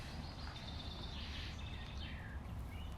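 Faint birdsong drifts outdoors by a lake: a few thin, high whistled phrases over a low, steady rumble of wind and ambience, with no one speaking.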